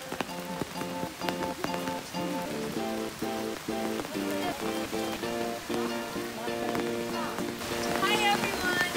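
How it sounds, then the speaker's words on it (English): Heavy rain pours at Bulusan Lake in Sorsogon as a steady, dense hiss, with tonal sounds layered over the downpour throughout. "It is raining so hard, but we are powering through, powered by nature."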